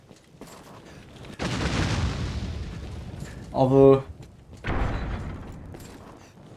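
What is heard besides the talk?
explosions in the video game Dragon's Dogma: Dark Arisen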